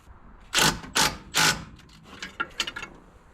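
A hand ratchet tightens a bolt on a 1966 International 1200A pickup, giving three loud close clicking strokes followed by a quicker run of lighter ratchet clicks.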